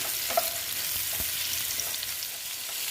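Okra frying in a pan in a vegetarian Bengali dish cooked without onion or garlic, a steady soft sizzle with faint stirring ticks, heard alone without talk.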